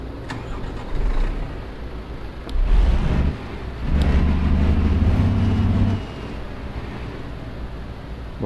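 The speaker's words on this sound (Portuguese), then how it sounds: "Agora a gente liga o caminhão." A truck engine in Euro Truck Simulator 2 cranks and starts, with repeated churning starter bursts followed by a steady low engine rumble, loud and close.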